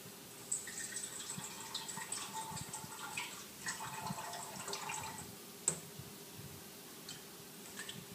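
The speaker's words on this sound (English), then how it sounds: "First, we have to put a little bit of water in the can." Water pours into a can with a faint, trickling splash that comes and goes over several seconds, with a few small clicks against a quiet background.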